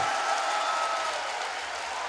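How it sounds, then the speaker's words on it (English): Esports arena crowd cheering at the CS:GO ELEAGUE Major 2017 grand final, Virtus.pro versus Astralis on Train, a dense, sustained roar of many voices with no breaks. "And the crowd is loving it."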